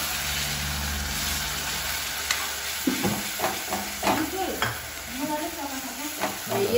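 Onion paste goes into a hot pan for a chicken dish at an outdoor picnic spot, sizzling steadily with bursts of stirring and scraping, close and fairly loud over a constant background hiss.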